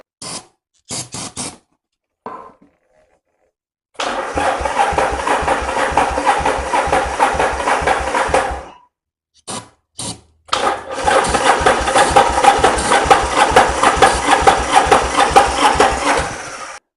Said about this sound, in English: I do want to hear it run, especially with the new throttle cable on.